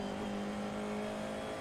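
An F4 race car engine at Monza in the iRacing sim, holding a steady high-revving drone with a strong, even tone, loud and continuous for the whole moment with no other sounds over it.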